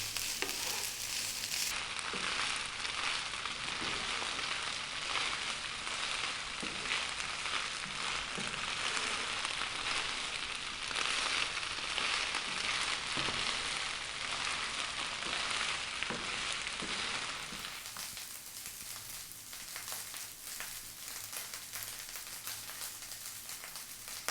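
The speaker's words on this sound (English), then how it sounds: "You really need to be frying your rice nicely." Rice sizzles steadily in a hot pan with a dense, crackling hiss that stays loud, then softens noticeably for the last few seconds.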